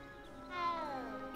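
A cat meows once, a short rising-falling call that stands out clearly over a quiet room background.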